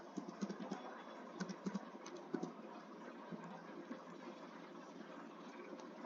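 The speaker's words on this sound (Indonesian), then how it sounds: "Caranya dengan mengetikkan pada kolom input bar" Computer keyboard keys clatter in quick irregular bursts, close and moderately quiet, with brief pauses between runs of keystrokes.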